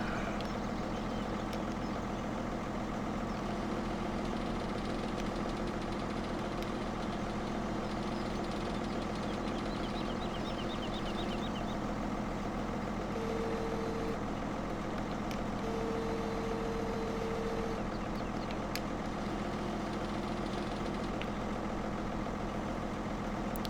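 Tractor with mowers attached idling steadily, a low continuous engine rumble with faint knocking, moderate distance, no talk, constant level throughout.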